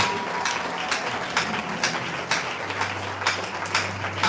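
A church congregation applauds and acclaims during a worship service, a dense, even patter of many hands clapping with occasional louder bursts, steady throughout, with a low hum entering partway.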